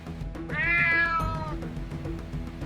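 A cat gives one clear, drawn-out meow, loud and close, in a cartoon, over a soft steady background.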